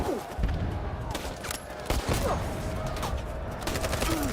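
Gunfire in Detroit: Become Human strikes the player's character: a dense fusillade of sharp shots and thuds crackles over busy game noise, with a few heavier hits standing out near the start and around the two-second mark.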